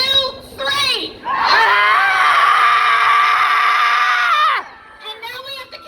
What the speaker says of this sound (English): I want you to scream this rage so long that they hear you in Washington, D.C.